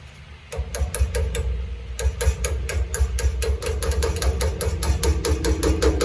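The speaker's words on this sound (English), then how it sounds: "That's where the mini hammer's great." A small mini hammer strikes metal in quick, rhythmic taps while replacing a trailer wheel hub, dozens of sharp, close blows with a few short pauses.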